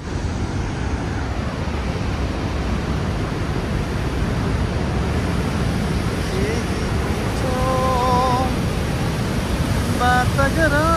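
Powerful roar of water pouring over Niagara Falls in Canada, a dense, steady rushing wash that fills the whole clip at close range, with faint whistle-like tones near the end.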